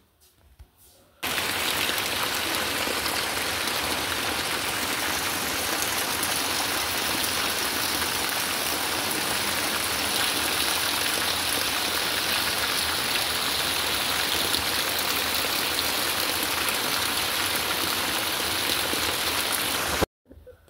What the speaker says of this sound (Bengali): দেখেছো কেমন বৃষ্টিটা নামলো, দেখো বৃষ্টির আওয়াজ শোনো